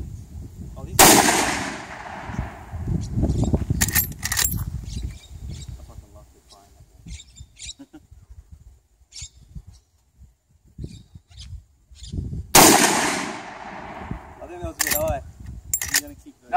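Two loud, sharp gunshots from a 30-30 lever action rifle fired outdoors, about eleven seconds apart, each followed by the metallic clack of the lever cycling, with people chatting in between.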